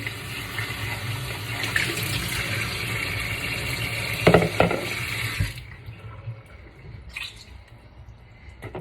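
Liquid poured off from a cooking pan of steaks into a sink: a steady rushing, splashing pour for about five seconds, then it stops abruptly, leaving a few faint drips and small clatters.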